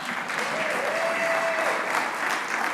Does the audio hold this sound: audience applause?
yes